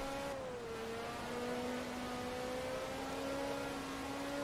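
A Ferrari engine in Forza Motorsport 2 holding a steady, even drone with slight pitch shifts, moderately loud and alone.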